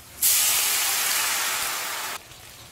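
Water hisses and sizzles on a hot iron pan being seasoned, a single loud, steady burst of steam lasting about two seconds that cuts off abruptly, with no voices.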